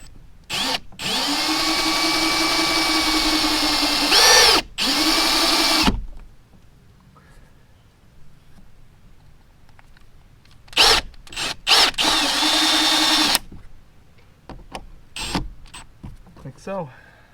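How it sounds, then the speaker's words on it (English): A power drill drives screws into the foam hull of a Hobie Pro Angler kayak while a Power Pole Micro is installed, whirring in several loud close bursts that ramp up and stop, with quiet pauses between. "take my drill"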